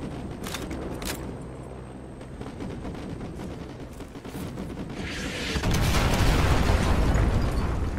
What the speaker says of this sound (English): Call artillery on the enemy vehicles.